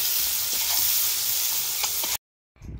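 Potatoes and carrots frying in a pan, a close steady sizzle with a few soft stirring knocks, cutting to silence for a moment before the frying resumes more quietly.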